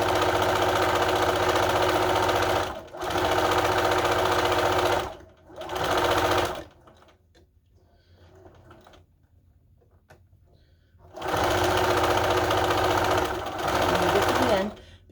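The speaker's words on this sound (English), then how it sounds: "just sewing 1/8 of an inch from the folded edge." Sewing machine stitching a strip of fabric folded in half close to the folded edge, running in steady loud bursts, stopping for a quiet pause in the middle, then starting again, with a voice talking during the quiet gap.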